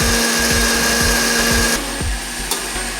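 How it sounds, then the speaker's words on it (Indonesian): An electric blender grinding fresh turmeric with chili for beef rendang, a loud steady motor whine with a rhythmic thumping churn of the ingredients; the pitch shifts partway through, and no one speaks. "Dan kita blender lagi."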